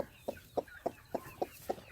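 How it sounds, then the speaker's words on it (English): A hen clucks in a steady rhythm, seven short, evenly spaced calls close by over a quiet background. "And we got some hens here."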